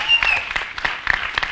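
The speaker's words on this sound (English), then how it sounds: "big round of applause." Audience at an international yoga festival lecture series applauding, a brief burst of crisp, scattered claps with a few whistles over it, fairly close and lively.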